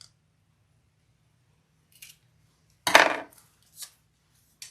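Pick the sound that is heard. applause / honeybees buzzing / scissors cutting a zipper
scissors cutting a zipper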